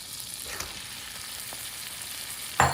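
Meat sizzling as it fries in melted butter in a pan for cheesesteak egg rolls, a steady close crackle with a louder burst near the end.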